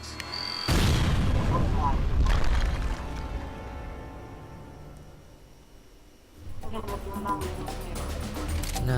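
A dynamite explosion in the Serious Sam 3 first-person shooter game, a loud deep blast bursting out and rumbling for a couple of seconds before dying down, followed by further game sounds.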